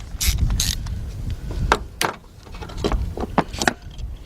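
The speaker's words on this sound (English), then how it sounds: "I'm taking the bolt out." Metal clanks and ratchety clicks from removing an ignition coil bolt on a 2000 Ford Excursion 5.4, the cross-threaded number 1 coil being worked loose; a few sharp close taps and scrapes, no talking.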